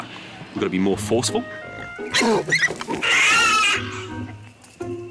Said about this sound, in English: That's the sound of an angry pig.